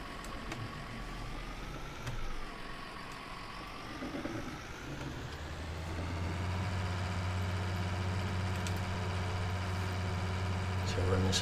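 Farm vehicle engine in Farming Simulator 19, a steady mid-low drone that deepens and grows louder after a few seconds as the machine pulls away, with someone talking over it.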